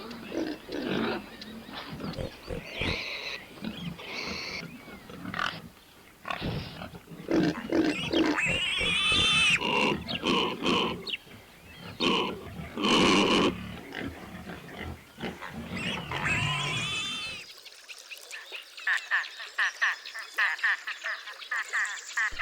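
Iberian pigs grunt and snort repeatedly while roaming the Dehesa oak pasture in autumn and winter, close and busy with overlapping calls, with a narrating voice speaking over them before the grunting thins out.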